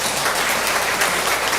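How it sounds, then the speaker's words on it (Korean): An audience claps steadily, a dense continuous wash of applause at even loudness with no talking over it. "이때 박수로 쳐야죠"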